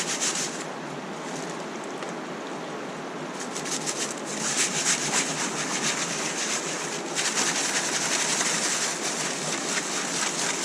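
A kitchen strainer full of river gravel, used for garnet prospecting, is shaken vigorously back and forth, making a continuous gritty rasping and rattling that swells in pulsing surges.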